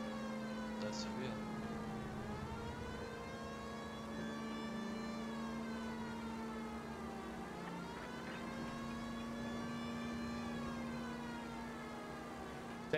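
Emergency vehicle sirens in a video game wail continuously in slow rising and falling sweeps, faint and distant, over a steady low engine drone.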